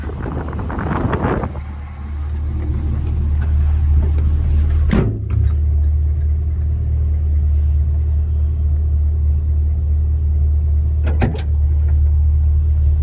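A 1952 GMC 100 restomod pickup with an LS engine swap and four-speed automatic drives along, its engine a steady loud low rumble close to the microphone, with two sharp clunks along the way.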